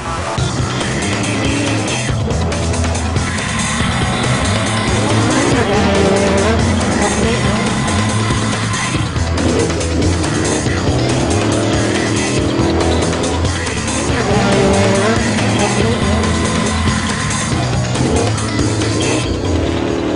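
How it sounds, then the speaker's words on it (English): Off-road Pro Light race trucks roar into turn one at Crandon, engines loud and close with rising and falling revs and tire noise through the whole stretch, while a commentator talks over them. "Casey Curry nailed another hole shot going into turn 1, showing he had both his new truck and Crandon wired"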